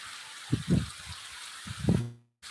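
Rain falls during an outdoor live stream as a steady hiss, broken by a few dull low thumps close by. The sound cuts out abruptly near the end before faintly returning.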